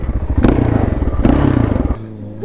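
A thumb-throttle vehicle engine blips loudly up close, with two sharp revs surging and falling back before dropping to a lower idle.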